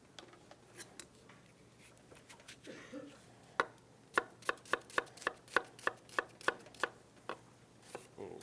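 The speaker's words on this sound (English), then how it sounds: "I'm going to take a little bit of red onion here. Dice this as finely as well." Knife finely dicing red onion on a cutting board, a quick even run of crisp chops after some scattered taps, fairly close and alone with no talk.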